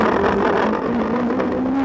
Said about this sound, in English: Neil Simpson guides the whispering Golf up to fourth place